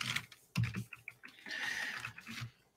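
Fingers type a short file name on a computer keyboard, a quick close run of light clicking keystrokes with a few heavier taps and a brief pause.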